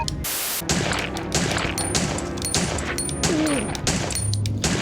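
Gunshots in the video game Resident Evil: Survivor, a rapid series of loud, regularly spaced shots with brief pauses between bursts, over game music and effects.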